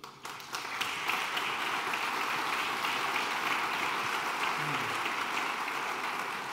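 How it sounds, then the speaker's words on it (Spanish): Audience applause at the close of a talk on intelligent buildings, a dense, sustained wash of clapping from a room full of people that starts abruptly and holds steady to the end. "Un aplauso."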